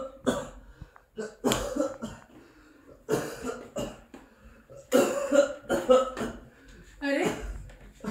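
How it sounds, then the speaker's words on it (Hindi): Repeated harsh coughing fits come in several bursts, close and fairly loud, separated by short pauses and some throat clearing. "आपकी खांसी को एक महीने से ऊपर हो गया है"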